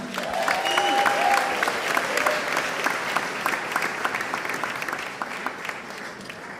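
Audience clapping at a pizza awards ceremony in Milan as presenters are welcomed to the stage, a dense steady applause with some distinct nearby claps and a brief voice or tone early on.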